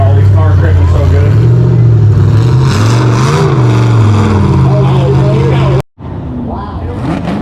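Loud, steady engine roar from a car at a drag strip during Holley LS Fest East 2023, holding a pitch that rises and falls before cutting off abruptly near the end, with a quieter engine noise continuing afterward.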